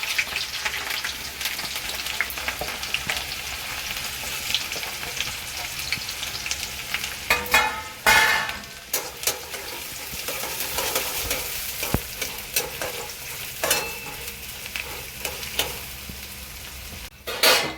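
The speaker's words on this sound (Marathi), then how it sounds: "तेल गरम झालं, आता आपण कांदा फ्राय करून घेऊया." Onion fries in hot oil with a continuous hiss and crackle, close by, broken by a few louder clattering bursts of stirring, and no voices.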